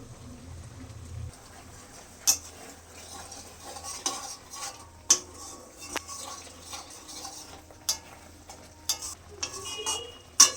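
Spice paste being sautéed with a little sugar and crushed fried katla fish head: a quiet sizzle under repeated metallic clinks and scrapes of a spatula against the pan, several sharp knocks spaced a few seconds apart.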